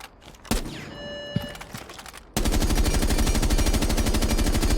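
G36 rifle with flash hider in Rainbow Six Siege: a few menu clicks and tones, then a sustained loud automatic burst of rapid, evenly spaced shots lasting about two and a half seconds.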